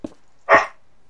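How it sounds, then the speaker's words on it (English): Zoe, a pet dog, gives a single loud, close bark after a short faint yelp, then the room falls quiet. "That's Zoe, his dog, who really likes to bark."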